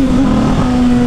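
A Honda CB1000 turbo motorcycle engine revs hard and close, a loud steady tone that dips briefly and climbs back up in a short burst.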